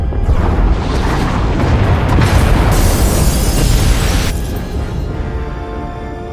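Escape pod bays blowing apart in Star Wars The Old Republic video game, a loud, sustained roar of explosions with crackling debris that slowly fades toward the end.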